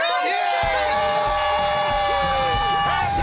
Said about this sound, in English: And why is the crowd cheering?